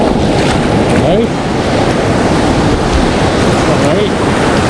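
White-water rapids on the Olentangy River roar steadily and loudly, a dense, continuous rush of churning water with wind buffeting the microphone throughout.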